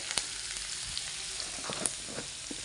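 Onion and curry leaves fry in a hot pan with a steady, close sizzle, broken by a few sharp crackles and pops as the pieces shift. No one speaks.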